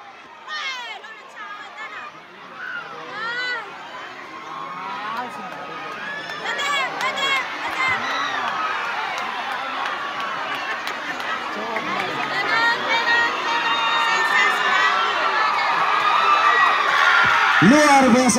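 Supporters at a live match roar, shout and cheer, a dense crowd din that builds steadily louder toward the end, with scattered whoops and high shouts rising above the mass.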